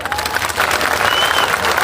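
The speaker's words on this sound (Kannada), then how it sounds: "ಜೋರಾಗಿ ಚಪ್ಪಾಳೆ ಬರ್ತಾರೆ" Loud, dense applause from a large crowd at a farmers' rally, steady and sustained throughout with a brief murmur of voices mixed in.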